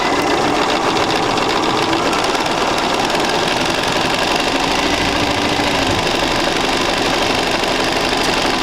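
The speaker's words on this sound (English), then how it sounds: "I'll go ahead and place my foot back on that line and sew 1/4 inch on this side" Sewing machine running steadily through a quarter-inch quilting seam on a basic sampler square, a loud, dense whirring stitch rhythm that continues unbroken for the full stretch with no talking.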